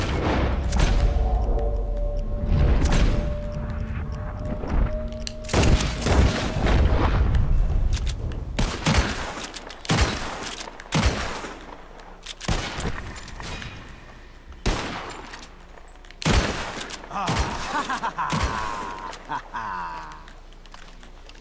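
Gunfire rings out in an ambush in Red Dead Redemption 2: a string of sharp, loud shots and heavy reports at irregular intervals, some close and echoing, with people talking and shouting between them.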